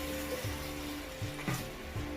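Prawn shells fry in a pan with garlic and onion, giving a faint, steady sizzle with a few soft knocks from stirring, and no talking.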